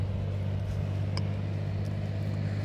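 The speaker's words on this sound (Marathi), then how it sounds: "आता इथून ट्रॅक्टर येतो म्हणून फुकट आवाज होतो" A tractor engine runs close by on a quiet beach in Konkan, its steady low drone continuous and fairly loud throughout with no talk.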